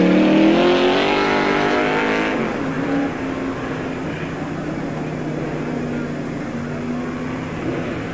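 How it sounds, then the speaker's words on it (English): NASCAR modified race cars from the 1997 Busch All Star Tour at Tri City Speedway pull out of the pits, engines droning loudly and steadily, with a louder surge at the start that eases into a sustained rumble. "Two cars come out of the pits a little bit late."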